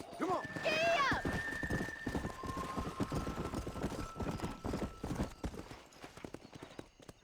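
A horse in the video game Red Dead Redemption neighs loudly, then gallops off with rapid rhythmic hoofbeats that grow fainter, close at first.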